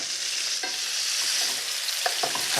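Pork tenderloin sears in hot oil in a pan, a steady close hiss of frying with occasional scraping and stirring clicks over the top, and no voices.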